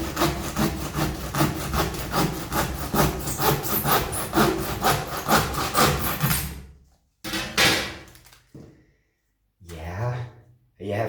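A brand-new, very sharp saw cuts through cork for mounting a Maxillaria orchid, giving a fast, steady rasping stroke rhythm that is close and loud for about seven seconds, followed by a few brief scraping bursts with gaps of silence.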